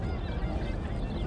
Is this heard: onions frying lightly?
no